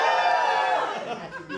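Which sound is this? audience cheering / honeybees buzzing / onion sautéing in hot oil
audience cheering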